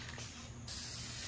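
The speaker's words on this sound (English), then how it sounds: "Yeah, it does spray. I mean, this is primer anyways." An aerosol spray can sprays primer paint in a continuous close hiss, briefly pausing then resuming louder for the rest of the moment, with no talking.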